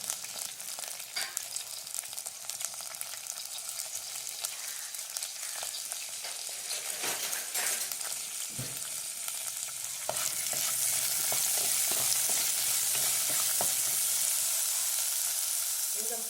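Small onions sizzle in oil in a pan while mackerel curry is being made, a steady close frying hiss with occasional stirring scrapes that grows louder and brighter toward the end.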